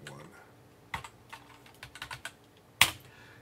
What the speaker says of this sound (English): basically you just type in your IP address